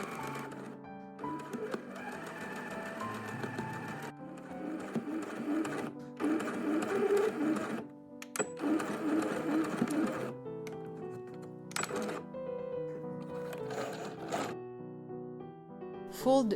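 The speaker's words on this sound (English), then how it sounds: "stitch the printed fabric with a straight stitch 1 cm or 3/8 of an inch from the edge" A sewing machine runs a straight stitch along the edge of printed fabric for a baby bib, whirring in steady bursts that stop and restart several times, close and fairly loud, with a soft background melody underneath.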